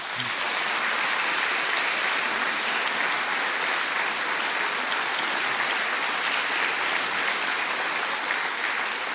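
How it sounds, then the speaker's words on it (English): A studio audience in Salford gives a sustained round of applause on a radio quiz show, a steady, even wash of clapping at moderate level with no talk over it. "our Salford audience also rewards you handsomely with this Grand Slam round of applause."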